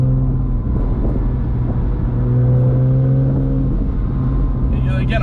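A 2006 Porsche Boxster S driving along a road, its engine a steady, close drone with shifting harmonic tones as it pulls through corners, heard from inside the cabin.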